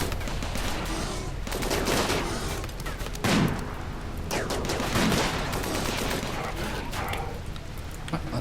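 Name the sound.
gunfire in video game Rimworld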